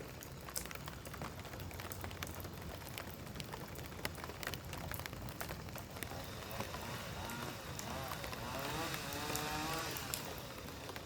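Early-morning rain falls outdoors as a quiet, continuous patter on surfaces, faint and distant in character, with a low steady wash and no talk.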